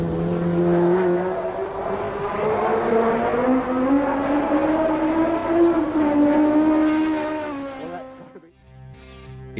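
A Ford SuperVan 2 racing van with a Cosworth engine revs and pulls hard, a loud high-pitched engine note climbing and easing through gears before fading away near the end.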